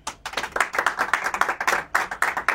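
A handful of people in a small studio audience clap hard for guest David Cross, the individual claps distinct and uneven, a thin, sparse round rather than a full ovation.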